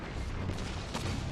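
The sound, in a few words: grenade explosion in Destiny 2 video game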